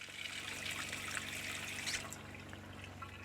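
An RV faucet runs steadily while the water pump pushes fresh water out of the lines during winterizing, pulling antifreeze through behind it. The water makes a continuous close hiss and trickle with no voices.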